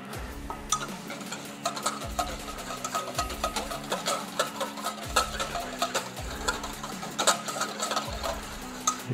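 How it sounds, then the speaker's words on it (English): A whisk beats an olive oil mixture in a bowl with quick, rhythmic ticking and clattering strokes, close and fairly soft, with regular low knocks as it hits the bowl. "We're now going to whisk those two together."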